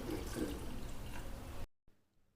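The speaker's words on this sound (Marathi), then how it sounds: "त्यानंतर आता ह्यामध्ये मी साधं पाणी घालणार आहे" Plain water is poured over cleaned, dried Bombay duck pieces in a vessel, a steady splashing gush lasting under two seconds before cutting off abruptly.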